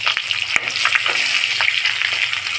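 Fish pieces fry in hot mustard oil in a wok, a loud, close, continuous sizzle and crackle with scattered pops and faint stirring clicks, no voices.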